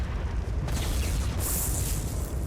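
Explosions rumble in the ARK video game, a dense continuous low booming roar with bursts of crackling that stays loud throughout the short stretch.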